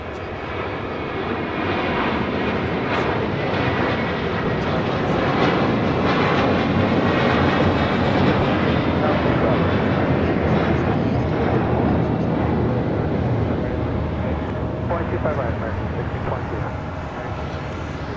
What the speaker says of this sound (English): Next takeoff is American Airlines flight 1952. It's an A321 heading to Charlotte.